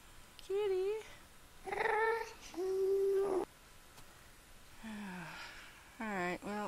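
A cat meows repeatedly in a Minecraft-style video game on a sunken island, several distinct rising and falling meows with short pauses, fairly close and clear.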